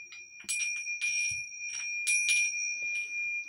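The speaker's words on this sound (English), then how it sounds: "Ring the bell again" A small hand bell rings repeatedly during a spiritual ceremony resembling a mass, producing sharp metallic chimes in uneven bursts, close and fairly loud, with no speech over them.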